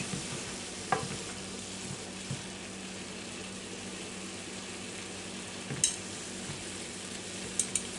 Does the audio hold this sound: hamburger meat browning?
yes